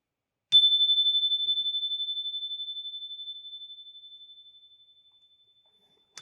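A single clear chime from PASCO Capstone software, a pure ringing tone struck once that sustains and slowly decays over several seconds in near silence, followed by a faint click at the end.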